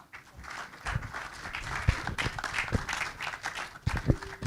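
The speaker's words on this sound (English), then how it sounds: "With a resounding applause, let us welcome OBIORA AWOGU." Applause from a conference audience at a cybersecurity event welcoming a speaker to the stage, a steady patter of many hands with a few sharper claps standing out, fairly close and without speech.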